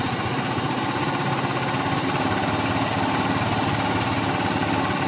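A Yamaha BWS Zuma 125 scooter engine runs lean, a steady close buzzing drone with a slightly uneven, rough pulse and no talk.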